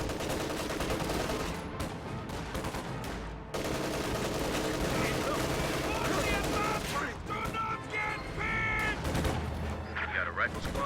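Rifle fire crackles in rapid, overlapping bursts from a sniper nest in a strategy video game, dense and continuous across the clip with a brief gap, mixed with game effects and a voice talking over it.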